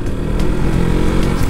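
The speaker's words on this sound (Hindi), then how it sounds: "इसकी बाइक में तो भाई एग्जॉस्ट भी डला है भाई" A KTM or FZ motorcycle fitted with a loud aftermarket exhaust, close by, giving a steady, throaty engine drone with rough pulsing low tones throughout.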